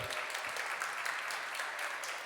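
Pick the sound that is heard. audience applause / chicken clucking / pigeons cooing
audience applause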